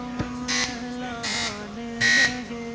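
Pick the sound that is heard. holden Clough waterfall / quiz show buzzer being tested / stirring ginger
quiz show buzzer being tested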